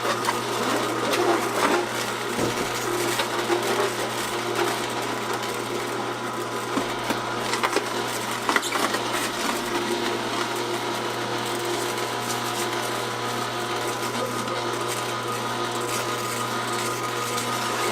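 A Kuvings EVO 820 slow juicer runs with a steady, continuous motor hum and faint grinding, loud and unbroken, with no talking.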